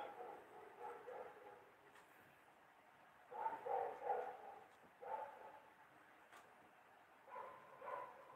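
A dog barks faintly in the distance at night outside a house, a few short bursts of barking spread across the clip with quiet gaps between them; no talking.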